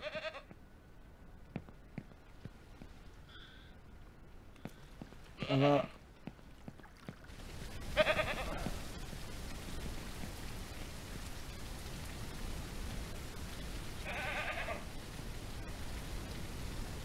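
Goat bleats ring out a few times in the Ranch Simulator farming game, short cries scattered over a steady rain-like hiss, with someone talking briefly between them.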